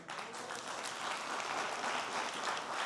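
Steady applause from an audience during a sit-down interview, a dense, even wash of many hands clapping at a moderate distance with no voices over it.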